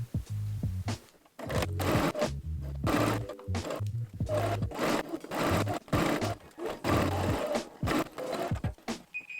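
A sewing machine stitches a seam joining front, top and bodice panels on a bubble frock, running in repeated close bursts of rapid mechanical whirring with brief pauses between runs, no talking.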